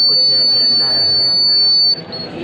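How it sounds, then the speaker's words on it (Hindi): The alarm of a student's laser security system project sounds as a steady high-pitched electronic buzzer tone that holds loud and unbroken for about two seconds, then cuts off over a noisy hall background. "इसमें अनऑथराइज एंट्री पे ये अलार्म बज जाएगा"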